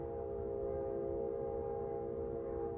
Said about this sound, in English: I'm gonna wait for this train to go by.